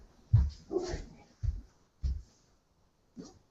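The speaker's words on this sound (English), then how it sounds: "Hey, no barking." A dog indoors gives a few short, muffled woofs and low huffs, four or five separate bursts at moderate volume with quiet gaps between them, no talk.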